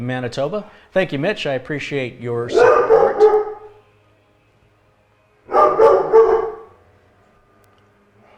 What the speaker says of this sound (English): I apologize that the dogs are barking and going crazy.